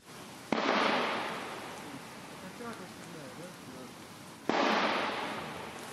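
Two sharp distant shots from PTRD anti-tank rifles about four seconds apart, each followed by a long rolling echo, with faint murmur in between.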